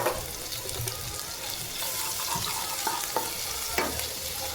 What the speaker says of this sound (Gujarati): તેલ આવી ગયું છે. મને કુછ લસણ એ સાતરી નાખશું.